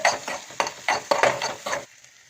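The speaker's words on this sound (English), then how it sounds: "after scrambled, add oregano powder and some salt. Give a mix." Scrambled egg with oregano powder and salt is mixed in a pan with about seven quick, rhythmic scraping strokes, close and fairly loud, which then stop and leave a quiet tail.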